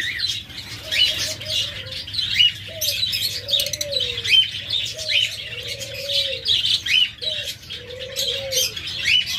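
Silver pied pigeons coo in repeated soft, rolling calls at close range, mixed with chirps from other birds and some wing flutter, with no one speaking.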